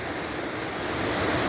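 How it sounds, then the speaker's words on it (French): A small waterfall about six or seven metres high in a river gorge gives a steady, dense roar of rushing water, close and continuous with no voices. "Petite cascade, je sais pas, 6-7 mètres d'eau, 6 mètres d'eau."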